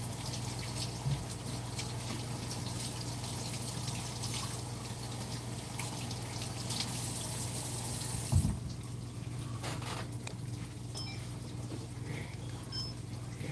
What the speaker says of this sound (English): I'm gonna wash these basils out.